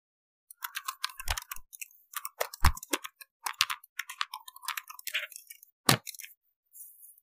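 Typing on the keyboard of an Infinix InBook X1 Slim laptop: a long run of close, crisp key clicks in uneven bursts, with a few heavier thumps and a short pause near the end.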